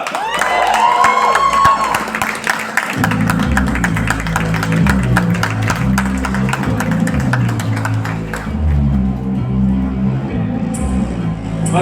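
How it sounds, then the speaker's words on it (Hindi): At a trailer launch event for a streaming series, an audience claps and cheers loudly, with dense applause and shouts, while music plays over the crowd noise. "जोरदार तालियों से स्वागत कीजिए"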